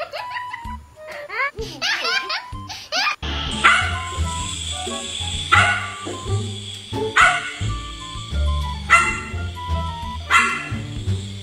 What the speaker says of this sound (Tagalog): Naloloko na yung aso.